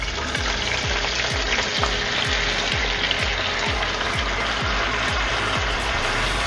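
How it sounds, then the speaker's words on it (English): Pork frying in hot lard for Carne de Porco à Alentejana, a loud continuous close sizzle with a steady run of repeated scraping or stirring strokes. "So now we're going to add in our pork."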